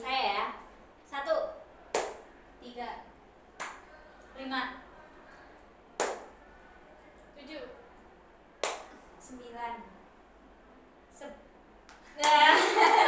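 Sharp hand claps ring out one at a time, spaced a few seconds apart, between spoken numbers as people in an Islamic counselling group practice session play a counting concentration game, followed by a louder burst of noise at the end.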